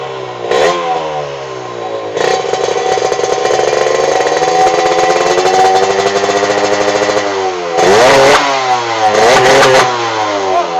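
A Yamaha RXZ135 motorcycle fitted with a VR150 engine and a new spark plug runs loud and close, its buzzing idle broken by several sharp revving blips near the start and again toward the end.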